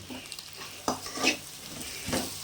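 Chicken and pasta ingredients sautéing in a pan, a soft low sizzle under a few faint scrapes and stirs, fairly quiet and close.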